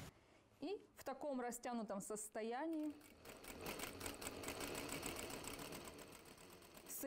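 A sewing machine back stitching an elastic waistband on trousers: after a brief spoken instruction, the machine runs in a steady, rapid, close mechanical whir to the end.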